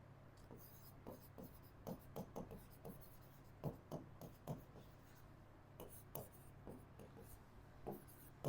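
Chalk or marker writing on a classroom board during a physics lesson, a faint series of irregular scratchy strokes and taps in an otherwise quiet room.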